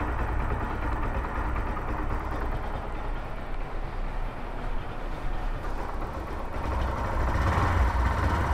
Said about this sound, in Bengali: দেখেন বাইকটার সাউন্ড কত স্মুথ হয়ে গেছে ইঞ্জিন ফ্লাশিং করার পর